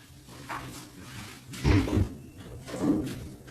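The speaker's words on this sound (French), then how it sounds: "j'ouvre la porte au chat" A door opened indoors to let a cat through, heard as a pair of soft, muffled clunks about a second apart over quiet room noise.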